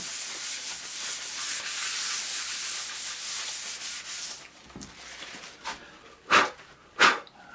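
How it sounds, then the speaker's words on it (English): Loose powder is rubbed into an egg tempera portrait surface with a steady, close, dry scrubbing that runs for several seconds, then eases off into softer scuffs and two short, sharp bursts near the end. "We don't want too much loose powder coming off, so we'll just rub it in."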